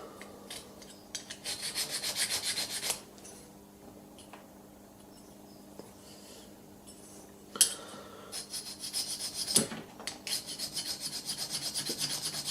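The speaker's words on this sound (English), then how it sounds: "we'll just find the bevel and just keep refining it" Steel strap end punch, its inside bevel being refined by hand with a file or sharpening stone: steady rasping strokes in bursts, a quiet gap in the middle, then a couple of sharp clicks and more scraping.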